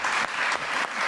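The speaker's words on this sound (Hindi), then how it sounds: "तालियां हैं" A burst of audience applause at a live comedy show, dense and loud, with clapping that swells in short waves.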